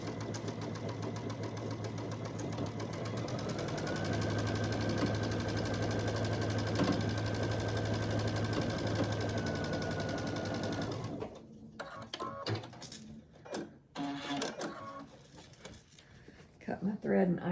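A sewing machine hums steadily as it stitches quilt pieces together in one long run, then stops, followed by handling noises and speech.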